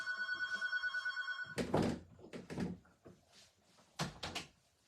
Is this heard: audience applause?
no